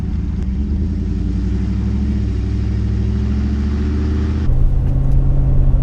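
A 2013 Ford Raptor pickup truck's engine rumbles steadily while driving, a loud, close, continuous drone that shifts and swells slightly near the end, with no voices.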